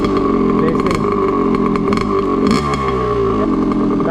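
An RM dirtbike engine drones loud and close while ridden along a rocky stream through Sri Lankan jungle, its note wavering with rattling clatter from the rough ground.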